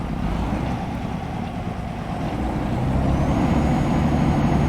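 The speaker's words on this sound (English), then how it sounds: "Let's get my windows down so you can hear the sound of snow being crunched under the tyres." A 2014 Kenworth T680 6x2 truck in American Truck Simulator rolls through snow with the windows down, a loud continuous low engine and tyre rumble carrying a constant gritty crunch and wind noise throughout.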